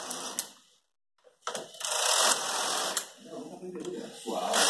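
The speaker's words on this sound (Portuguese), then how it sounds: "Eu tô testando o pente nessa 1820, que ela é motorizada." A motorized Brother 1820 knitting machine with a Brother 800 ribber comb runs in rapid mechanical whirring passes, stopping briefly and then starting up again, close and fairly loud.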